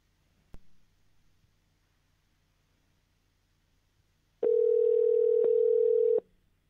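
A telephone dial tone sounds while a guest is being called back during a live talk show: a single click early on, a quiet pause, then a loud, steady tone holding for about two seconds before it cuts off, with no talk over it.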